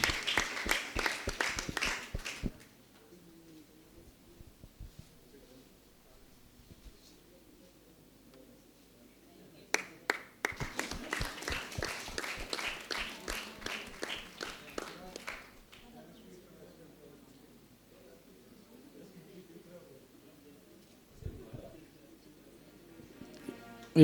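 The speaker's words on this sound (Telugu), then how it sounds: "గట్టిగా చప్పట్లు కొడదాం." An audience claps at a church honouring ceremony. Two bursts of applause are heard, one brief at the start and a longer one in the middle, moderately loud. A voice speaks over quieter stretches in between.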